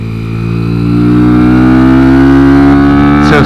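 A Kawasaki Z125 motorcycle engine, set up as a trackbike, revs loud and close, its pitch climbing steadily and then holding a sustained high drone, running alone with no talk.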